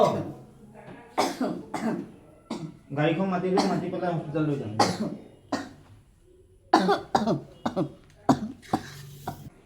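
A sick person coughs repeatedly in harsh bursts, close up, with people talking between the coughing fits.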